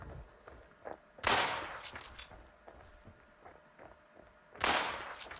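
Gunfire in the zombie survival game Infestation: two sharp bursts of shots stand out among quieter scattered clicks and thuds, fairly faint overall.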